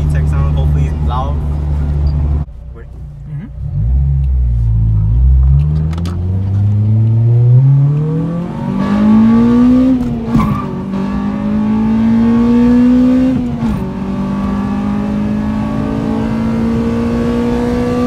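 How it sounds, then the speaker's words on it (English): An Acura RSX's VTEC four-cylinder revs hard during a test pull, climbing in a long rising howl with a few brief lifts before surging again, loud and close, with a short idle burble at the start. "hope you guys enjoy the VTEC sound. Hopefully, it's loud."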